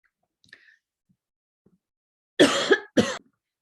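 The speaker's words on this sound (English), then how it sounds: "I started coughing and couldn't stop" A lecturer coughs twice in quick succession, close and loud, after a few seconds of near silence broken only by small clicks and a faint breath.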